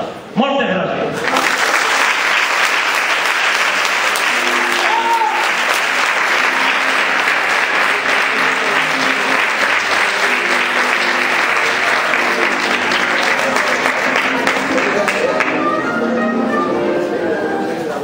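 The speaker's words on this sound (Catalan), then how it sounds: "este fort aplaudiment per a tu." Loud, sustained applause from a large audience at a children's Falla presentation in Manises, continuous dense clapping for the full stretch, with some voices and tones faintly beneath.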